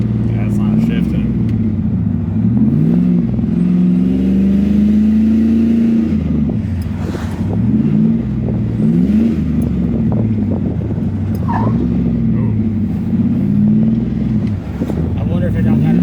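A car engine in an LS-swapped S10 revs up and down repeatedly while the transmission fails to shift. The near, loud engine rises and falls in wavering pitch under ongoing talk.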